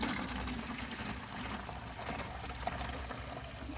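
Liquid pours steadily into a container, a continuous splashing gurgle lasting a few seconds with no talking.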